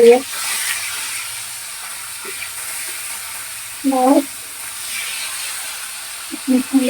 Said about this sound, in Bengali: মাছটাকে উল্টিয়ে পাল্টিয়ে